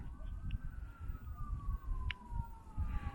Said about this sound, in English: It's those sirens, they kind of got them